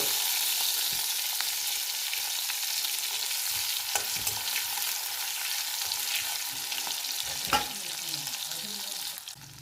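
Onions sizzle and fry in hot oil left over from frying fish, a steady, close crackling hiss with a few clinks of a stirring utensil and no speech.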